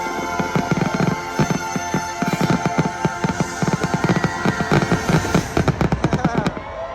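Fireworks from the Disneyland anniversary show burst in rapid, loud, crackling volleys, a dense barrage of overlapping pops and bangs that keeps going throughout.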